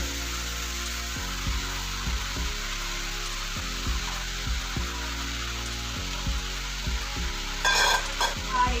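Water spinach greens being stir-fried in a pan, a soft steady sizzle with repeated scraping stirs at an even rhythm and a brief louder spatter near the end.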